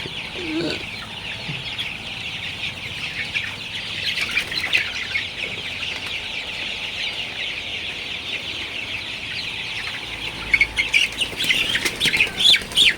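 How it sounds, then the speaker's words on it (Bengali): Sonali super hybrid chicks about a month old cluck and scurry on a farm, a continuous busy chorus of clucks and chirps with wing flaps and scuffling bursts growing louder toward the end, no voices. "সোনালি মুরগি আসলে লাফালাফি করে দৌড়াদৌড়ি করে"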